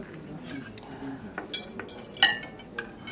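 Light clinks of cutlery against a plate, a few scattered taps with one sharper ring, under quiet background noise.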